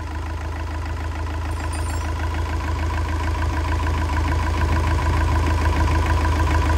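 A Yanmar 4TNV98 four-cylinder diesel engine, 98 mm bore, rated 62 kW, runs steadily at close range with a smooth, even low rumble and no change in speed.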